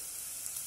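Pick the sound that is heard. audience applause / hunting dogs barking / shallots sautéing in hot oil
shallots sautéing in hot oil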